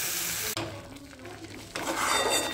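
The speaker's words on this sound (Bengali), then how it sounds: "তো চলো খুব ভালো করে নাড়িয়ে চাড়িয়ে একটু মশলাটা ভালো করে কষে নেব।" Spice masala with coriander powder and chilli powder being stirred and fried in a pan, a soft continuous sizzle with scraping stir strokes, louder toward the end, no talking.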